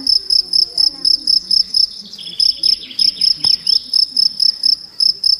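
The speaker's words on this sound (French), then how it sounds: "Le grillon, il est là." A male field cricket stridulates in spring, giving loud, close, regular pulsed chirps in a steady rhythm of about three per second, with faint birdsong in the background.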